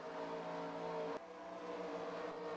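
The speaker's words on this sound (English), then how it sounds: "Like that car might be clutching." Race car engine in a Pikes Peak racing video game, the driver clutching through corners: a steady droning engine note that breaks sharply once as the revs drop, then resumes at a lower pitch.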